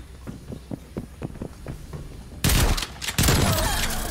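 Gunfire in Black Ops Cold War during a shotguns-only custom match: a run of quieter, evenly spaced shots, then a loud, dense burst of blasts close up for the last couple of seconds.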